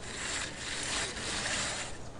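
A metal tape measure in the prison-building game Prison Architect, its blade sliding out and retracting as areas are drawn, giving a steady, soft rattling whir that runs without a break.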